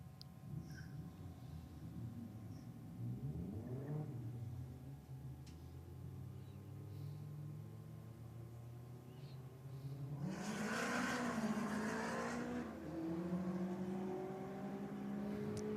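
A Ford Falcon and a Honda Civic race in a roll drag race, engines droning at a distance before swelling into a louder, rising roar of acceleration as they pass.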